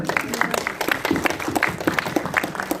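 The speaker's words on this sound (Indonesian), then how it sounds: "Boleh tepuk tangan semuanya" An audience at a film screening claps together, a lively burst of many hands with distinct individual claps standing out in an uneven patter, fairly close and sustained throughout.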